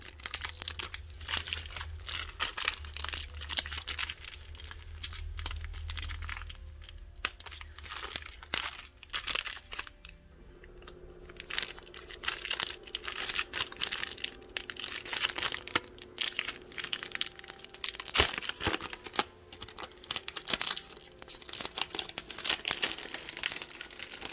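Holographic silver nail art foil is unwrapped from a winter nail supply box, making close, continuous crinkling and crumpling of thin packaging with a short quiet pause midway.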